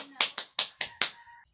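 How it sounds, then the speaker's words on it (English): Students in a classroom clap together: a quick run of five or six sharp, bright claps, close and loud, fading into a brief quiet tail. "So clap yourselves, give yourself 100 claps."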